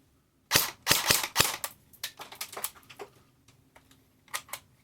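Sharp, close shots from an ICS G33 airsoft gun: a quick burst of several cracks, then a run of lighter clicks and snaps, and two more shots near the end, with no talking.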